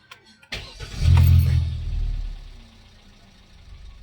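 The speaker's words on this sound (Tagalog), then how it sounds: "Tsaka ako ngayon ibalik yan para mapa-start ko na itong makina." A Hyundai Accent's engine cranks and catches, then settles into a steady idle, close and loud with no talk over it.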